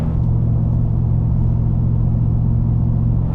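A Ford F-150 with a 5.0L V8 and a single-muffler race exhaust cruising at highway speed, giving a steady, loud, deep droning rumble inside the cab with no gaps or talking.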